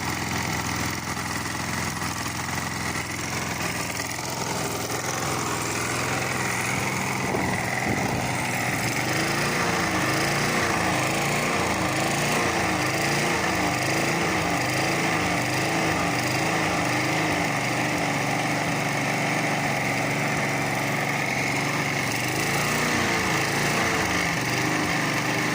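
A Briggs and Stratton Quantum 5hp lawn mower engine runs steadily and loudly throughout, a constant mid-pitched drone with a slight rhythmic chug.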